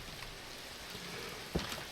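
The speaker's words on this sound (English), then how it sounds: "We have rain. That's just what we needed." Rain falls in Minecraft with the Tektopia mod, a steady soft hiss throughout, with one brief knock near the end.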